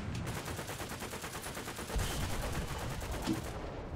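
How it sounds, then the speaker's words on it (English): An artillery strike lands in the tank combat game War Thunder, a dense roaring barrage of rapid explosive bursts for several seconds, loud and continuous, then cutting off abruptly. "Well, we already called artillery."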